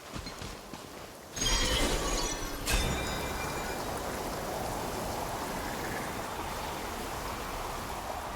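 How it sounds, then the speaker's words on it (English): Steady video-game rainfall, a dense hiss that swells suddenly after a quieter start and then holds as an even, continuous wash with no voices over it. "It always rains when I go on an adventure."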